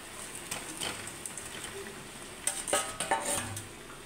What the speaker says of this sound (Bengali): আমার ঝালটা টকবক করে ফুটছে